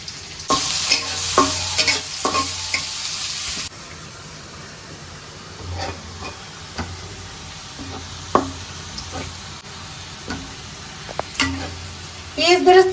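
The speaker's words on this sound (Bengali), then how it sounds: "কড়াইতে তেল দিয়ে দিলাম। আগে পেঁয়াজগুলো ভাজিয়ে নেই।" Onions frying in hot oil in a wok (kadai) for quail biryani, a low steady sizzle under occasional scraping stirs and knocks of the spatula, with a louder hissing burst near the start.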